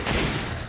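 Enemy gunfire in the co-op zombie shooter Resident Evil 5, a short dense burst of rapid shots filling the moment with no talk over it.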